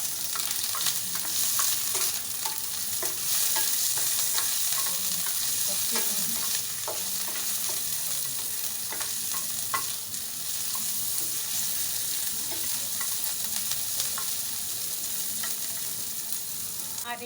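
Onion frying in hot oil in a pan, a steady close, even sizzle with frequent light stirring scrapes and clicks throughout, no voices.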